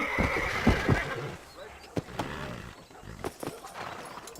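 A horse in the Red Dead Redemption video game gives a loud whinnying neigh at the start, followed by quieter snorts and hoof clops, with someone talking over it.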